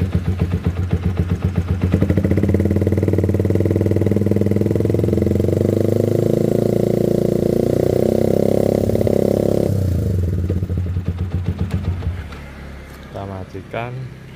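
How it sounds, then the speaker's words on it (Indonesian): A modified Yamaha Vixion motorcycle with an Akrapovic-replica exhaust revs up to a loud, sustained roar, holds it for several seconds, then drops back to a throbbing idle as a voice speaks near the end. "Ini kita tes suara knalpot dulu aja."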